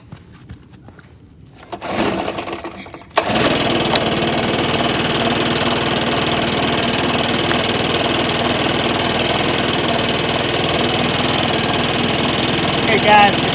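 A small two-stroke leaf blower engine has a quiet start with some handling noise, sputters, then catches and runs at a loud, steady buzzing idle close by for the rest of the clip, with no talk.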